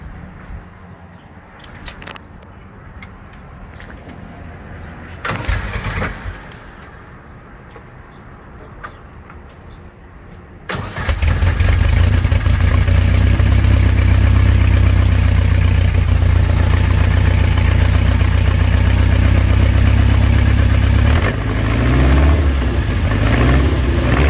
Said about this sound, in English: that thing sounds good for a Volkswagen engine